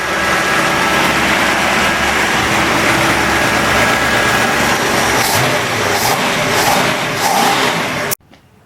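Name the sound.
V8 engine running with tappet noise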